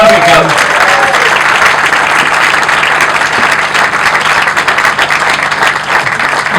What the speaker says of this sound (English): so just keep clapping because it's going to take some while